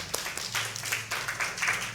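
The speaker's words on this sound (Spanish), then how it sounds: "Vamos a darle un aplauso al Señor." A church congregation claps in praise during a Spanish-language sermon, scattered, fairly quiet applause rising and falling over a couple of seconds with a faint voice underneath.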